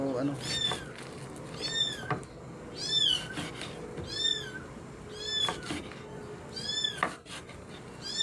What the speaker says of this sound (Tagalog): ingay ng aking pusa.